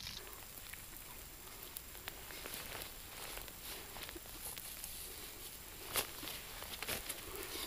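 Light rain patters steadily on a poncho shelter at an outdoor camp where bacon is being cooked, a soft continuous hiss with scattered sharper drops close by and no talking.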